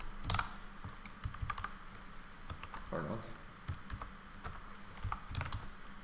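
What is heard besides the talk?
typing on a new computer keyboard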